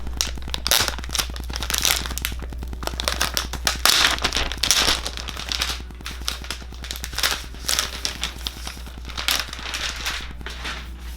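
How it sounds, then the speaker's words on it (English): Protective plastic film crackles and crinkles as it is peeled off a 2020 Razer Blade 15 Mercury White laptop, a dense, continuous run of close crisp crackling with brief louder tears and a steady low hum underneath. "That's plastic just waiting to peel off."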